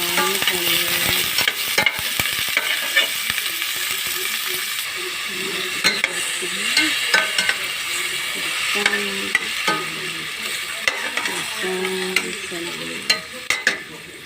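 Ground pork giniling sizzles and fries in a pan, with steady crackling throughout and repeated scraping and stirring strokes of a utensil against the pan, heard up close and alone.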